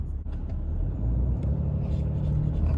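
2019 Ram 2500 pickup with a 6.4L HEMI V8, 68RFE transmission, air suspension and 35-inch tires, towing a trailer of about 10,000 pounds, gives a steady low engine rumble and road drone, close and continuous, with no talk.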